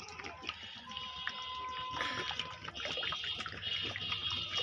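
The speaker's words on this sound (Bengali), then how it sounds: "ডাল গরম হয়ে গেছে, এখন ঢেলে নেব ক্যানের ভিতরে" Hot lentil broth being poured into a can, a continuous soft watery splashing and trickling, fairly faint and close, with no talk.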